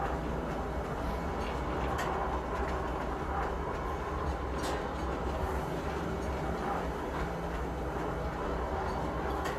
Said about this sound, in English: The trains turning on the track.